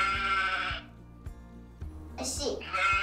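A voice imitates a sheep, giving two wavering bleats separated by a short pause, close and fairly loud.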